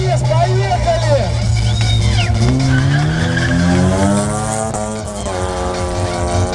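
A Tavria and a Honda Civic launch together in a race from the start, with loud rising engine revs, gear changes and tire squeal, up close under excited voices and crowd chatter.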